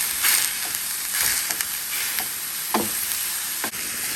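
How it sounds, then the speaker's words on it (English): Ground beef and tender onions fry in a pan, giving a steady close sizzle with occasional scraping stirs. "We're just going to brown this beef."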